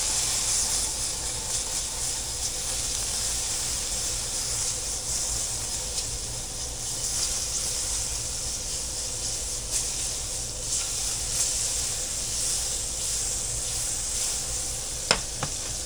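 Butter melting in a hot pan while keto French toast is being made, giving a steady, continuous sizzle and hiss that holds evenly throughout, with one brief sharp tick near the end and no talking.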